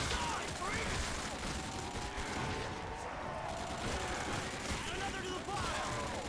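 Rapid gunfire in a custom zombies map game, dense continuous shots and mechanical clatter running throughout at steady loudness, with players talking over it.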